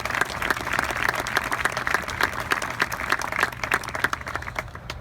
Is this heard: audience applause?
yes